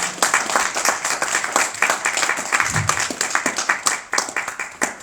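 An audience at a political campaign address for the June 2024 European election claps in sustained, dense applause from many hands, loud and continuous for several seconds.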